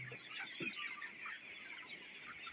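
A flock of chickens clucks steadily in a dense, continuous chorus, fairly close, with no talking.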